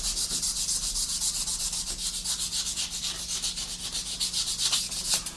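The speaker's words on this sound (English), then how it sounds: "Then you can just come in with a sanding sponge" A sanding sponge rubs back and forth over a hard plastic model kit part in quick, even strokes, a soft rhythmic scratching heard up close.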